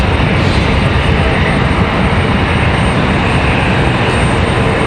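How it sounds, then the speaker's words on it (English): Delta CRJ regional jet taxiing toward the end of the runway at Raleigh-Durham International Airport, a loud, steady broadband engine roar and whine filling the whole stretch without voices. "Delta CRJ headed out to the end of the runway."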